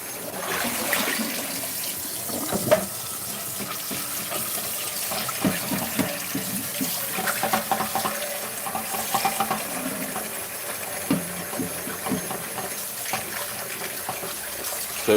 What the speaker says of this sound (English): rinse this skillet out.